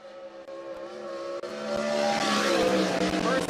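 A 410 sprint car runs its qualifying lap on a dirt oval, its engine drone building louder and rougher as it nears, with an announcer speaking over it.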